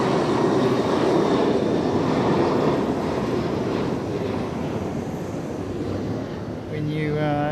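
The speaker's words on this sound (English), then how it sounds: "That's the 767 that was going past earlier, and that was the one making all the noise." An old Boeing 767 airliner at Fukuoka airport passes with a loud, sustained jet roar that swells and slowly eases, ending with a brief tonal whine as a voice begins speaking.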